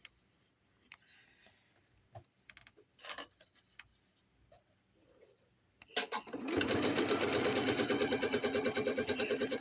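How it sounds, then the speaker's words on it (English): A sewing machine stitching a quilt starts partway through after a few quiet clicks and handling sounds, then runs steadily with a fast, even mechanical patter close by. "Just some sewing ASMR going on."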